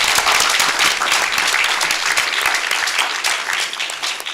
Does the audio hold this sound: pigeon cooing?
no